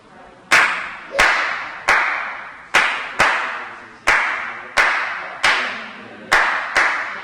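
Hands clapping a 3-2 Afro-Cuban clave rhythm, sharp close claps in repeating groups of three then two, each with a short ringing room decay, no voices.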